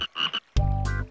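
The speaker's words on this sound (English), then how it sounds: "He's a frog!" A cartoon frog croaks loudly and close in a children's show, one long buzzing croak after a few brief vocal sounds, with no talk over it.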